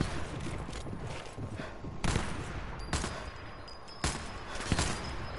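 Rifle gunfire in the video game Sniper Elite 4, a few sharp shots spaced over several seconds against a noisy, busy game background.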